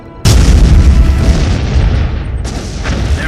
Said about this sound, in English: Incoming Martian missiles.